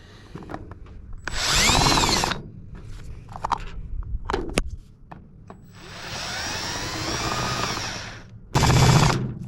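A power drill tries to drive non-self-tapping screws into an F600 truck part, giving two close, loud bursts of high whirring with a longer sustained run between them and brief handling knocks in the gaps.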